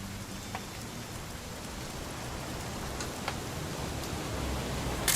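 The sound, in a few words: rain falling, from a video game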